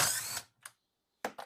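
A power tool whirs briefly, close and loud, unscrewing bolts from the light panel of a Tesla Model 3. Two shorter bursts follow, separated by silence.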